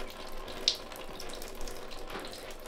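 Water sprays steadily from a newly plumbed shower in a house under construction, a soft continuous hiss with a small clack early on, faint and nearby with no talk.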